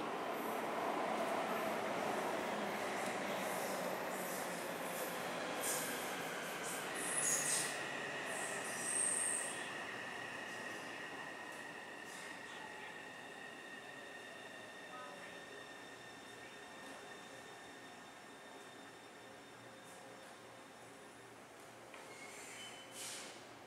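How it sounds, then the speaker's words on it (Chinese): A Taipei Metro C301 train with refitted propulsion arrives at a station platform bound for Xiangshan. A long, rolling rumble runs under high squealing wheel tones that slowly fade as the train comes to a halt. "二月台列车往象山"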